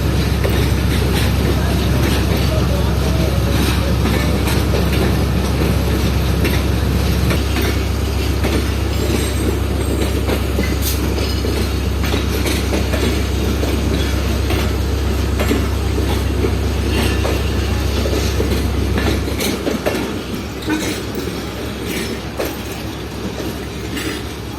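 The Pakistan Express, a long passenger train running between Karachi and Rawalpindi, rolls past close by with a loud continuous rumble and rhythmic wheel clatter, its low drone dropping away near the end as the last cars go by.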